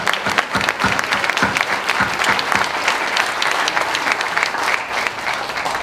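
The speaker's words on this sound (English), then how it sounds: "Let's give her a round of applause" An audience at a church retirement celebration applauds a retiring nurse with sustained, even clapping from many hands, loud and steady throughout.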